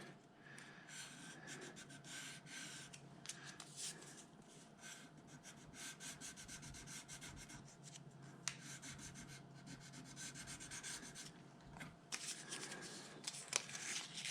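Fine 1500-grit sandpaper wrapped around a popsicle stick rubs right up against the nut of a paisley Strat guitar, producing soft, continuous scratchy back-and-forth strokes at close range.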